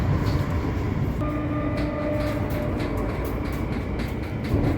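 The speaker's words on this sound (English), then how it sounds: "when the train is moving, because these trains are quite loud" A Transport for Wales Class 230 train in motion, heard from inside the carriage: a loud, steady rumble with a constant low drone and a thin whine, running unbroken throughout.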